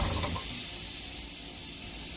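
A Harbor Freight 3 hp compressor head fitted to a Sears air compressor runs steadily, giving a continuous loud hiss and whir with a low mechanical rumble underneath. There is no talking.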